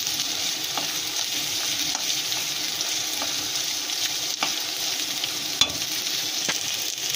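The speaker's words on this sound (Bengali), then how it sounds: "সঙ্গে একসঙ্গে কষিয়ে নেব, এমন করে কষিয়ে নেব ভালো করে, যাতে রসুনের কাঁচা গন্ধটা চলে যায়।" Garlic sautéing in a pan, a steady close sizzle with occasional light scrapes and taps of a stirring utensil.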